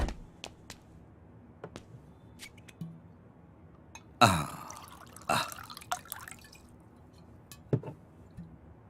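A short splash of liquid being poured into a glass, surrounded by faint clinks and small drips in a quiet room.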